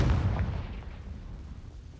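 A spell explosion in a Harry Potter video game gives a deep, muffled boom that rumbles and fades over about two seconds, with no talking.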